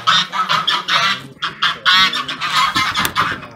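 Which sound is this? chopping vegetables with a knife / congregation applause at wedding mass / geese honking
geese honking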